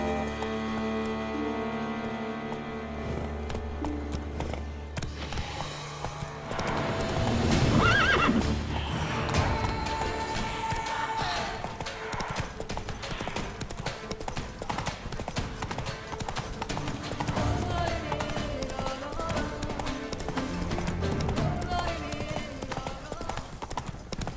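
Roach the horse gallops in The Witcher 3 video game, steady clip-clop hoofbeats over game music, with a loud whinny partway through.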